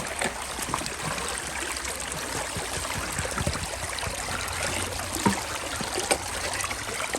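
Creek water running through a gold prospecting sluice box, a steady close trickling and rushing flow with small splashes, continuous and without talk.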